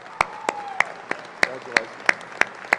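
Spaced, sharp handclaps ring out at a university College of Education graduation ceremony, about one every third of a second, sounding sparse and isolated in a large hall rather than a full ovation.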